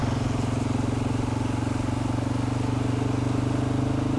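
Husqvarna motorcycle pushing offroad through deep water up near the top of the wheel, its engine a steady droning hum with a rapid even pulse, close and continuous with no talk.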